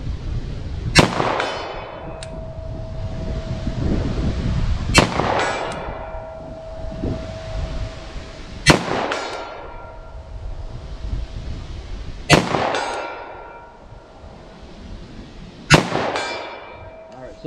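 Five hard-cast 10mm hand loads are fired outdoors at a steel target in harsh wind. Each loud shot is followed by a ringing metallic clang, spaced several seconds apart, with faint background noise in between.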